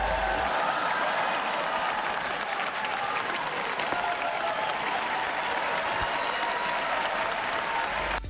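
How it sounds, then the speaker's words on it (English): A large audience at the Oscars ceremony breaks into sustained, dense applause mixed with cheering, loud and even from start to finish. "he was met with a roar of applause and laughter"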